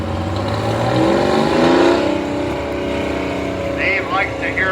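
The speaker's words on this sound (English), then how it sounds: "this has that Detroit engine in there, as you can hear" Detroit diesel engine of a 1949 Model FD tractor running loudly in a parade of power at a historical engineers' show, a steady rumbling drone that rises and swells, with a commentator talking over it throughout.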